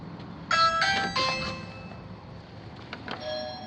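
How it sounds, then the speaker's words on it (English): A house doorbell in a newly built home chimes two clear, ringing tones that decay over room noise, followed later by a fainter, softer chime. "Okay, that's the doorbell."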